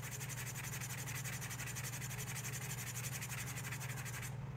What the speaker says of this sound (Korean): 가죽이 두 장인 부분을 사포로 문질러서요